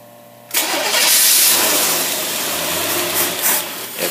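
An old car engine fitted with an Autolite carburetor cranks and catches after a half-second of quiet, then runs loud and rough with uneven surges as it starts to falter.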